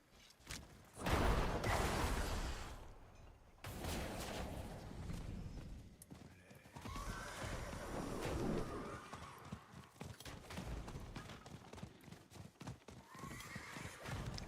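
A horse in the Diablo 4 video game gives a loud, close whinny near the start, followed by repeated clip-clop hoofbeats that continue over a busy game soundscape.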